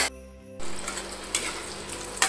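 Christmas sweets frying in hot oil, a steady close sizzle with a brief quiet gap near the start, then continuous bubbling crackle with a couple of louder spatters.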